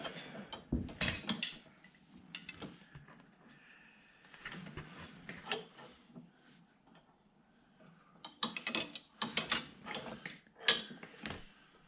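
A hand ratchet bolts together parts of an AgriFab tow-behind spreader, giving quiet, irregular clusters of clicking strokes with pauses for handling between them.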